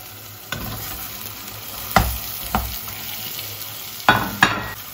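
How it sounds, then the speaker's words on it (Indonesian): Chicken pieces stir-fried with cooked spice paste for opor ayam in a pan, a steady close sizzle broken by several sharp spatula scrapes and clanks in uneven rhythm. "Ayamnya kita tumis bersama bumbunya guys."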